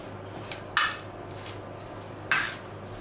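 Spoon clinking against a pan while parsley is stirred into a gratinated fish dish, two sharp metallic scrapes about a second and a half apart over a quiet kitchen background.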